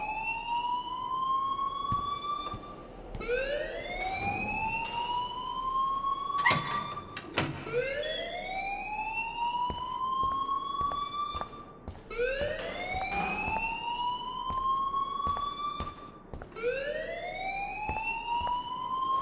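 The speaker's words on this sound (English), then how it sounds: "please turn off that alarm since that's your job" A rising and falling electronic siren wail repeats steadily throughout the scene, loud and continuous, from a fire alarm set off inside a school building in the adventure game Life is Strange, with occasional brief clanks over it.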